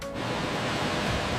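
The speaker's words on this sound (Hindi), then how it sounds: "यहां दो शुद्ध धाराएं मिलकर एक नया स्वरूप धारण करती हैं।" Two streams of purified water merge inside a liquor factory, giving a dense, steady rushing wash with no pauses.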